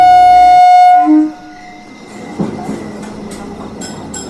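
A cartoon train at Kamalapur railway station gives a long, loud, steady horn blast that cuts off, followed by a softer rolling rumble with light metallic clinks.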